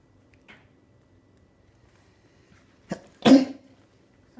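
A single sharp, close sneeze bursts out of near silence, preceded by a faint short sound and a brief inhale.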